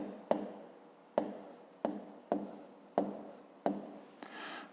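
Pen or pencil scratching on paper while working out a written multiplication problem by hand, several short bursts of writing separated by brief pauses, close and clear with no voice over it.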